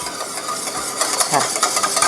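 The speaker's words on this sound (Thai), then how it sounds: "ตีให้เข้ากันค่ะ" A whisk beats a dressing of fermented vinegar and sesame oil in a bowl, making a steady, close, wet stirring and rattling for about two seconds.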